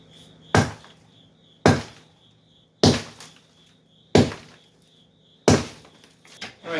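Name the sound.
sledgehammer smashing basement concrete floor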